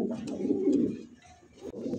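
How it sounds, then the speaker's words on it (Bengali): Magpie potter pigeon cooing in a low, rolling burble, repeated coos close by that swell and fade over two seconds with no talk. "আর এটা ডাকটা দেখেন কবুতরের"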